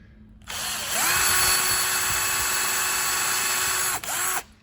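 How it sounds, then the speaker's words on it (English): A power drill drives a half-inch screw into a wood and metal pencil box, one steady whirring run of about four seconds with a brief dip near the end, close and loud, with no speech. "we're only using 1/2-inch screws. And screw it in place."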